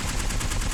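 Rapid automatic fire from the L-Star energy gun in Apex Legends, a fast even burst of shots rattling loudly and continuously through the whole moment with no talk.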